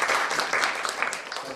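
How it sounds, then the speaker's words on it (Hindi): An audience applauds a motivational speaker at a communication skills session, with a brief, steady patter of many hands clapping at moderate loudness. "सर के लिए तालियां"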